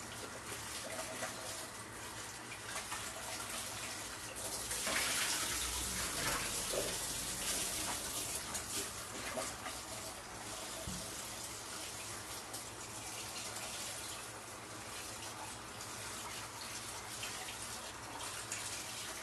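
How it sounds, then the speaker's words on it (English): Tap water gushes steadily into a cooking pot being filled to boil potatoes, a continuous close hiss that swells louder for a couple of seconds midway, with no talking. "Dump that water out, and then add hot water."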